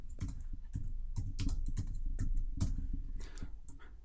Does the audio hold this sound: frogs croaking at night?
no